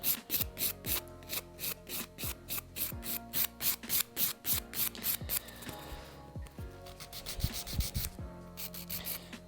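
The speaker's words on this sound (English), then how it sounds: "It's much easier to reduce that length with the 100 grit file." A 100 grit file scrapes back and forth across a hard gel nail to shorten it, giving close, rhythmic rasping strokes in a fast, even series with a brief pause partway through.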